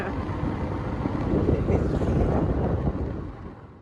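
Wind buffets the microphone over a low engine rumble from a moving motorcycle, swelling louder midway and then easing off.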